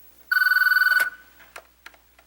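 A telephone bell rings in one short burst of rapid trilling, loud and close, then fades into faint clicks and small knocks with no talk.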